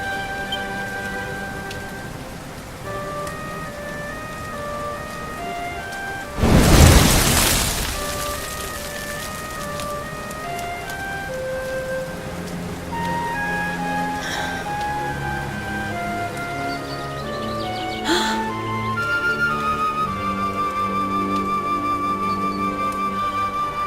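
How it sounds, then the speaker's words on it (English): Steady rain in the video game Dragon Quest XI, a soft continuous patter under gentle game music, broken by one loud crash near a third of the way in and a smaller hit later on. "Looks like the rain's dying down."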